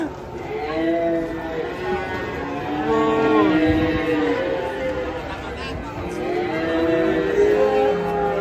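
Cows and a bull unloading from a truck moo and low repeatedly amid a crowd of people chattering close by, the calls overlapping the steady voices.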